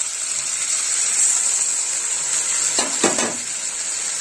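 Spiced water poured into a hot frying pan while cooking Rohu fish kalia: a steady bright sizzle, then a brief louder hissing surge as the liquid hits, before the frying settles back.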